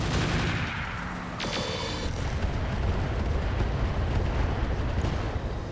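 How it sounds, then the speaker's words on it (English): A mech firing slug ammo in the RogueTech BattleTech game, a dense roaring barrage of heavy cannon fire and rumbling impacts that stays loud and continuous, with a brief sharper burst early on. "we may want to fire slug ammo here"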